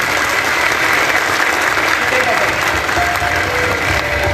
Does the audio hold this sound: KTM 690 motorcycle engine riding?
no